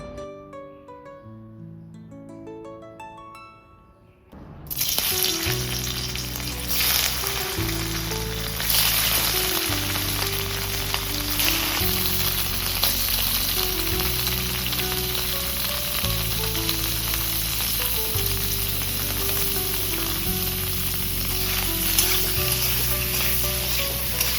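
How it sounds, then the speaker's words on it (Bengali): Paneer pieces fry with salt and turmeric in a wok, a loud, steady sizzle that starts after a few quiet seconds and carries on without a break. A melodic tonal layer runs underneath the whole time. "এই পনিরগুলোকে নুন আর হলুদ দিয়ে একটু ভেজে নেব"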